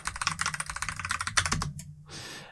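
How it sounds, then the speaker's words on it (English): Password being typed on a Mac computer keyboard: a rapid, close run of crisp key clicks in an even rhythm, ending with a few heavier taps and a short soft rustle. "Just type in your password."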